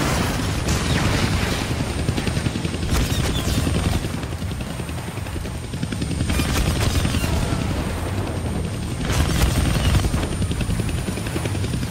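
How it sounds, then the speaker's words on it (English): A chopper in the Deadpool video game beats loudly and continuously, its dense rotor wash joined by occasional bursts of gunfire and booms. "I can't kill that chopper with my guns,"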